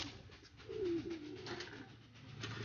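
A caged racing pigeon gives a soft, fairly distant coo in the middle of an otherwise quiet stretch of faint background hum.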